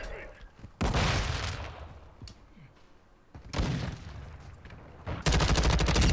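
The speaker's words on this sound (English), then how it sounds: "Oh, get that LMG long shot," Bursts of LMG fire from a belt-fed weapon in the video game Call of Duty: Modern Warfare, with rapid automatic volleys at intervals and a final sustained burst; a player's voice is heard in the mix.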